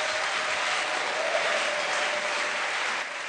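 A church congregation claps and cheers for the Lord at a live preaching service, a dense, steady wash of applause from many hands filling the room for about three seconds with no clear speech.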